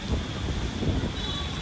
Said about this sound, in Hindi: देखो बारिश कितनी तेज हो रही है